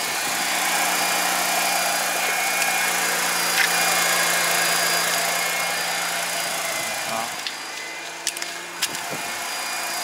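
A Mazda RX8 Type S rotary engine runs just after starting following months of sitting, a steady buzzing idle that dips briefly near the end, with a few small clicks.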